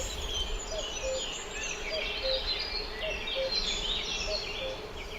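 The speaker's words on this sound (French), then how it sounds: "Maintenant, c'est le coucou, coquin qu'au loin j'entends." A cuckoo calls from far off in a Vosges spring forest, its soft two-note call repeating at an even pace beneath a busier chorus of nearby songbirds.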